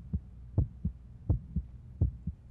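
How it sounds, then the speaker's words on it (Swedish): A steady heartbeat through a stethoscope, paired thumps repeating about every 0.7 seconds, low and muffled, with no talk over it. "Mitt hjärta låter så här."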